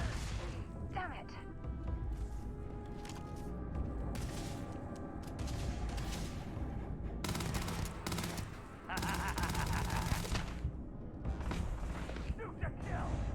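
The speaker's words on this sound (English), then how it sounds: "Jeez, they're shooting me." Enemy gunfire in the Starfield video game crackles in sharp bursts, loudest in the second half, amid clanking mechanical sounds and a player talking.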